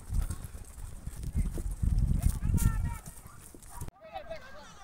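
Many horses clip-clop across the ground at a rural celebration with an ulak horseback game, their hooves thudding busily and close under a crowd of voices talking throughout.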